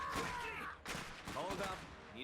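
Bursts of gunfire and explosions from a real-time strategy game set in an alternate 1920s war, rattling in quick volleys under game voice lines.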